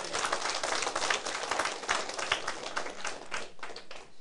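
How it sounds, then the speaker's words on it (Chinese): An audience at a lecture hall training session claps steadily, a fairly quiet, even patter of many hands that thins slightly toward the end. "给伊拍手鼓励者"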